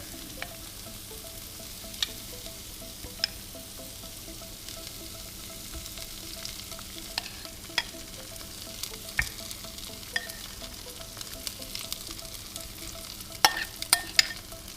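Ricotta and ground beef chaffle batter sizzles quietly in a chaffle maker, a soft steady frying crackle with scattered small pops and clicks throughout, no voices.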